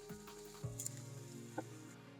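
Chopped onions sizzle quietly in a pan while being slowly stirred until they turn pink, cooking for a chole rice lunch; a soft, steady frying hiss with a few light scrapes and taps of the spoon.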